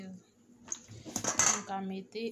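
Spinach and calalou going into a metal cooking pot, with light metallic clinks and a brief clatter of utensil against pot, close and fairly quiet, with faint voice-like hum around it.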